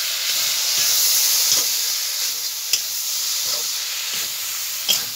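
Spices, salt and turmeric being stirred with taro flowers in a hot pan over a village cooking fire, giving a steady close sizzle and hiss with a few soft scrapes of the spoon spaced through it.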